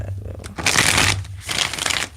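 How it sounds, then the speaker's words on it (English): Tarot cards riffle and flutter in two quick bursts of shuffling, close and crisp, with a low hum underneath. "Let's get one more good shuffle here"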